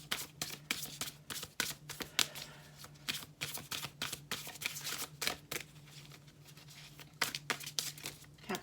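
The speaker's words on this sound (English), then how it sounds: "Let me just see if I can get one card here for Capricorn, please." Oracle cards riffled and shuffled by hand, a dense run of crisp papery flicks and snaps that keeps going from start to finish, close and fairly quiet. A steady faint hum sits underneath.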